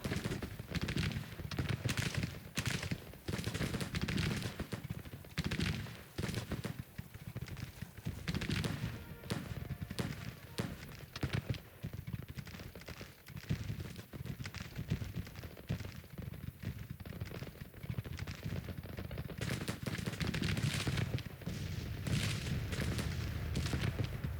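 Union or Confederate lines trade Enfield rifle musket fire in the American Civil War strategy game Grand Tactician, a long, dense crackle of musketry and scattered booms that rolls on continuously at a steady, fairly loud level.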